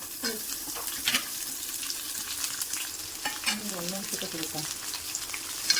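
Chopped onion sizzles in hot oil in a pot for multigrain bisibelebath, a steady hiss under occasional stirring clatter, with a voice speaking intermittently in the background.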